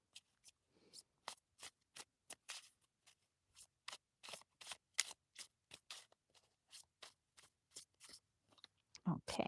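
Crisp riffling bursts of tarot cards being shuffled, repeated in short regular snaps, close and quiet, with a soft rustle at the end.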